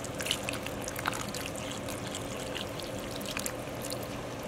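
Water pours from a bottle onto a Mojave rattlesnake stuck in a glue trap outdoors, a steady close trickle and splash over a broad outdoor hiss.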